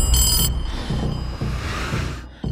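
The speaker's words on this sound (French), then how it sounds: "C'est un téléphone." A telephone rings in a Stranger Things season 2 scene, with a bright electronic ring at the start followed by quieter, echoing repeated tones.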